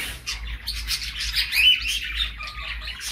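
Canaries and budgerigars chirping in an aviary, a quick series of high, bright tweets and short calls rising and falling at moderate distance over a low steady hum.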